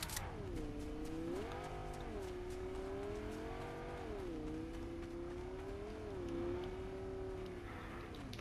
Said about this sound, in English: I hear somebody driving up there